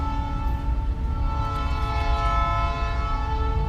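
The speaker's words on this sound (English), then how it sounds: "That sounds like a locomotive." A locomotive idles near a train station in Tijuana, its engine giving a steady, fairly loud tonal drone with a low rumbling undertone, continuous and unbroken, no talking.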